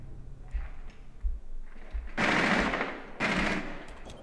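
Gunfire in the video game Rainbow Six: two loud sustained bursts of automatic fire, preceded by a few lighter thumps.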